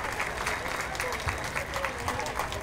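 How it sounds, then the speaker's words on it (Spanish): A crowd claps to send off a departing municipal band, with dense, steady applause under a loud voice talking over a public address. "más fuertes las palmas. Estamos despidiendo a la banda municipal"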